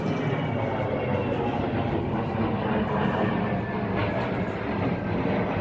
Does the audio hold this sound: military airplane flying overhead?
yes